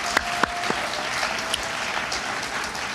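An awards-evening audience applauds the event sponsors, with a steady wash of clapping from a large room, a few sharper claps standing out early, and no talk over it.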